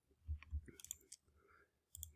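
Calculator keys pressed while entering matrix values, a few quiet close plastic clicks in a short irregular sequence, spaced by brief pauses in an otherwise hushed room.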